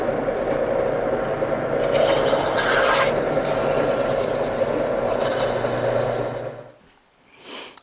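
A steady, close rasping scrape of a hand bottoming tap cutting threads in metal runs for several seconds, then stops, leaving brief quiet and a faint final scrape.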